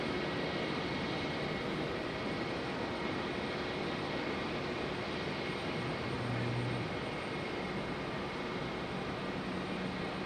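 Steady broad jet roar of an Airbus A320 departing Raleigh-Durham airport, a constant distant rumble and hiss holding level for the whole stretch with no voices.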